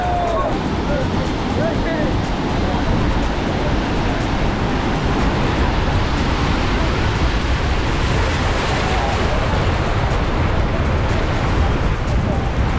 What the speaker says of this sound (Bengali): সমুদ্রের পানি আস্তে আস্তে বাড়তেছে